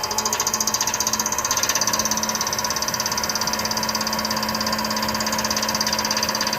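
A VEVOR 7 x 14 inch mini metal lathe runs at raised speed, a loud, close, steady mechanical whine with a fast rhythmic rattling pulse from vibration, alone without talk.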